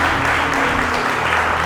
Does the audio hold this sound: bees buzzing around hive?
no